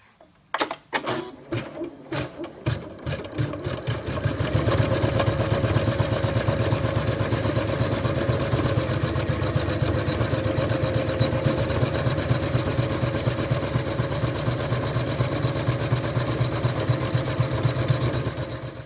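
Embroidery machine stitching an applique design through layered pieces of fabric, a steady, close mechanical whir with a fast needle rhythm running continuously after a few uneven starting knocks.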